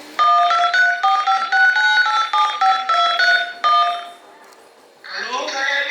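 Telephone number dialed on a handset: a series of steady two-tone keypad beeps in quick bursts for several seconds, followed by a brief pause and a louder broadband noise.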